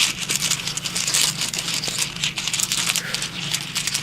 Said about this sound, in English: you hear a lot of shuffling of the runes